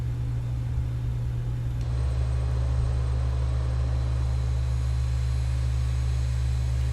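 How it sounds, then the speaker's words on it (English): A BAE 146 airliner in a flight simulator game taxis at idle thrust while heavy and nearly full of passengers, giving a steady low engine hum and whine with a faint rumble, constant and continuous with no talking. "thrust lever is back to idle. Plane taxis fairly nicely in idle thrust"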